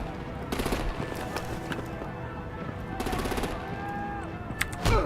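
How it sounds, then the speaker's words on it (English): Video game battle with bursts of rapid gunfire and machine-gun fire, several volleys in a row and a heavier blast near the end, under game music and effects. "Break out the artillery and disable their vehicles!"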